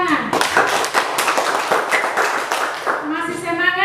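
A classroom of pupils claps hands together, rapid sharp claps close and loud, with children's voices over them and a voice speaking or singing as the clapping fades at the end.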